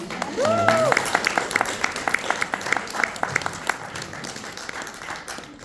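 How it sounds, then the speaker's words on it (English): A modest audience at an autism acceptance forum claps for speakers who shared their stories, individual claps audible in a loose rhythm that gradually thins and fades, with a brief voice near the start. "let's give them a hand of applause"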